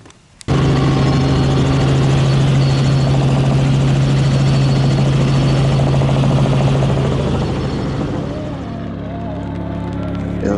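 A helicopter carrying a couple for their wedding reception grand entrance, heard from inside as a loud steady rotor and engine drone that fades slightly near the end, with a voice briefly under it.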